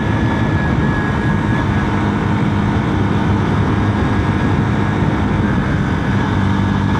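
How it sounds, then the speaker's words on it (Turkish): A Drift L 125 motorcycle's 125 cc engine runs steadily at idle, a loud continuous low rumble with even texture throughout and no talk. "Şöyle bir sesine de bakalım. Bence sesi de bu fiyat aralığındaki, bu CC aralığındaki bir motora göre gayet güzel."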